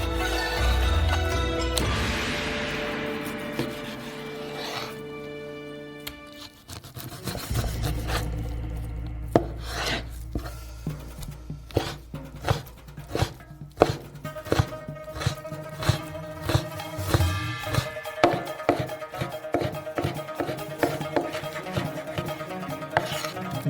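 Knife chopping pork belly into thin strips on a cutting board, a run of quick, close, sharp taps that speeds into a steady rhythm over a low background with no talk.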